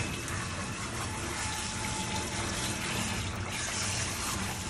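Running water rinses a dog during a bath, a steady, moderately quiet gush and spray that continues without pause and without talk.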